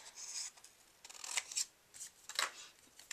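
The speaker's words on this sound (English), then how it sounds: "I'm going to take my scissors and I'm just going to cut a strip" Scissors snipping around a handmade paper card sentiment, a quick run of close, crisp cuts in short bursts with brief pauses between.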